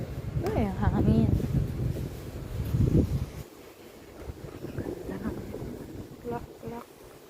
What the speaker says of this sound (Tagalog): Ay, hangin.